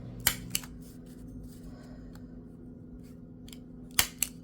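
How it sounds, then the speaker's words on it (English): A handheld stapler clacks twice through a paper envelope, the two sharp snaps about three and a half seconds apart, each followed by a small click, over a quiet room hum. "I'm going to take my little stapler"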